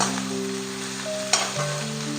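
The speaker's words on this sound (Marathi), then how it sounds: "कोबी टाकतीये, सर्व भाज्या मिक्स करून घेते" Cabbage and mixed vegetables for noodle spring rolls are stir-fried in a pan, making a steady close sizzle with a sharp scrape partway through and sustained tones playing underneath.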